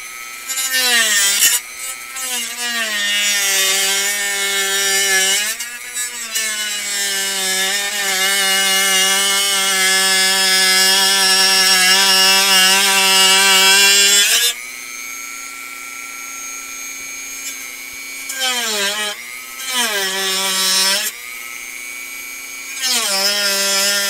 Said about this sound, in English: we'll get the rest of that with the sanding drum on the inside here.